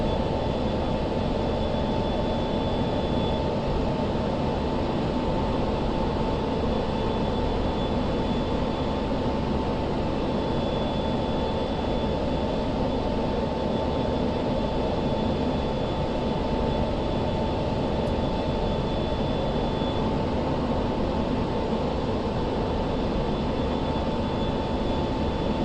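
A jet aircraft drones steadily through a DCS flight, a loud, continuous engine roar with a faint high whine that never changes or pauses.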